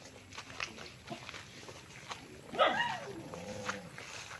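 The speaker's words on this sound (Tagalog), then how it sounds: "May aso." A dog on a rural fruit farm lot in Magdalena, Laguna gives a single sharp bark partway through, amid faint footsteps and outdoor background sound.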